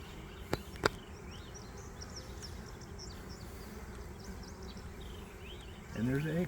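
Honeybees buzz around a mating nuc hive holding newly mated queens from grafted cells, a faint steady drone with a couple of sharp knocks early and a louder rumble at the end.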